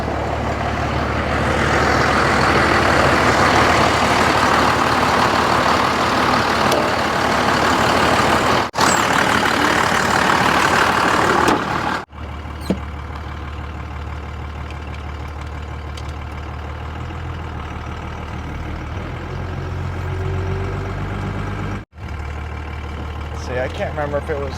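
A 1986 Ford diesel truck engine idles steadily after a jump start, a loud, even rumble that cuts out briefly twice and then continues at a lower level.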